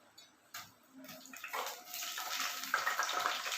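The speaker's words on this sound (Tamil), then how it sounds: "ஆயில் சூடானதும் கட் பண்ணி வச்சு கத்திரிக்காவை இதில் சேர்த்துங்க" Cut eggplant pieces go into hot oil in a pan, and a sizzling hiss builds and holds steady, loud and close, after a few soft clatters as they are added, with no voices.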